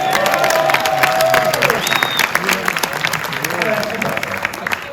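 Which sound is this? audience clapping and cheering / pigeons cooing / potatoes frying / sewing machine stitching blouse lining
audience clapping and cheering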